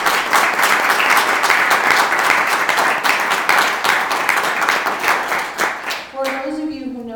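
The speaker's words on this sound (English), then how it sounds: "I'd like to ask that you all give a very strong round of applause to our own Maria" An audience gives a strong round of applause for an honoree at a swearing-in gathering, dense and loud clapping that holds steady before fading out, with a voice speaking as it ends.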